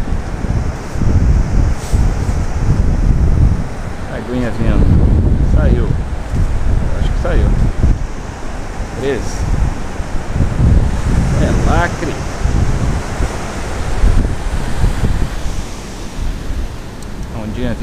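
Sea waves washing onto a beach at Búzios, Rio de Janeiro, with a steady roaring wash and wind buffeting the microphone, while someone talks over it at intervals.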